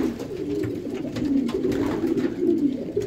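Racing pigeons at a breeding loft coo steadily in a soft, continuous low murmur, several birds overlapping at close range with no talk over them.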